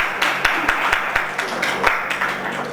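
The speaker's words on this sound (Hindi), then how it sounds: "जोरदार ताली।" Audience applause at a spiritual talk, a mix of claps with a few sharper individual claps standing out, fairly steady and moderately loud across the room.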